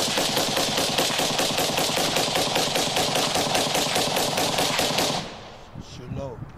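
Rapid gunfire aimed at a Tesla Cybertruck in a bulletproof test, a loud sustained automatic burst of dense rhythmic shots for about five seconds, then stopping abruptly into quieter background with a brief voice.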